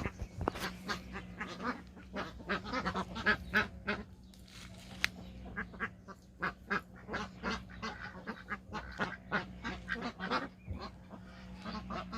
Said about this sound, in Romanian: Aici ăștia sunt rățoi bătrâni.